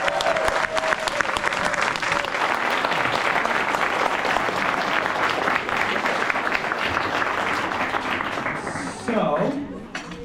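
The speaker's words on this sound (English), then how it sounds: "Families, one more applause for the whole crew." Families in a school hall applaud the crew at a student award event, sustained dense clapping from a crowd with a few voices mixed in, fading slightly near the end.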